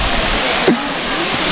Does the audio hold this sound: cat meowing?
no